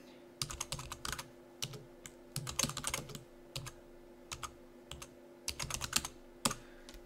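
Someone types on a computer keyboard while setting up a playlist, producing close, clicky keystrokes in uneven bursts of quick taps with short pauses between them.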